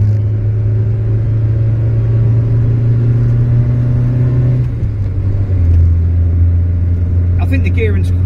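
Austin Allegro driving in fourth gear, a loud steady engine drone and road rumble from inside the car, the pitch dropping as it labours, with faint clicks near the end.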